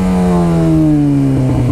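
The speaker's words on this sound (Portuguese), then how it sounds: "XJ6 é uma moto que me surpreende, de verdade." A Yamaha XJ6 motorcycle engine drones close and loud, its pitch falling gradually as the revs drop, steady and alone with no talking.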